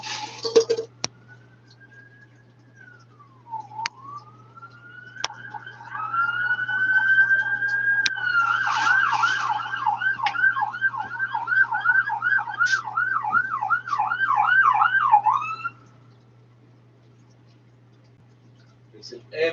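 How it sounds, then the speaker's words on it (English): An ambulance siren wails, starting as a rising tone and then switching to a rapid warbling yelp that grows steadily louder before stopping. "It's an ambulance coming right here."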